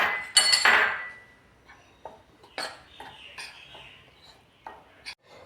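A utensil clinks and scrapes against a bowl while flour, cornflour, chilli powder, pepper and salt are mixed for fried chicken coating, with a loud rattling burst at first, then scattered clinks close by, no talk.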